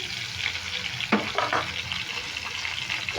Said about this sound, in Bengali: এবারে একটু উল্টে পালতে লাল করে ভেজে নিই